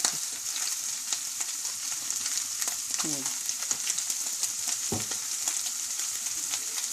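Spiced chicken doner meat fries in a pan with a bright, crackling sizzle and a few utensil scrapes and knocks, steady and close, without speech.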